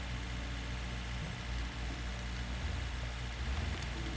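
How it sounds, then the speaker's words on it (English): Truck engine in the off-road driving game SnowRunner, a steady low droning rev that holds constant throughout with slight surges, loud and continuous with no talk over it. "I hate the engine sounds of these things. It's just like constantly revving."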